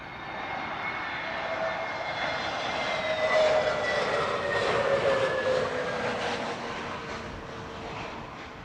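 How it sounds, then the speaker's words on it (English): A TAP Air Portugal Airbus A320neo touches down at Heathrow, its jet engines a steady, moderately loud roar with a rising whine that swells mid-clip and then eases. No voices are heard. "Nice TAP Air Portugal touchdown there"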